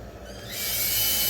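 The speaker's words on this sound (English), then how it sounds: "That was the 1/8 drill bit for these wood screws I just had lying around." A power drill with a 1/8-inch bit spins up and bores a pilot hole into wood, a rising whine with gritty rasp that grows louder and holds steady, close by.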